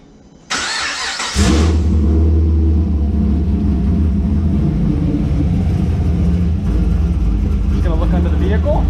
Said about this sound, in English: Now we're good to go ahead and start the vehicle up and check for leaks.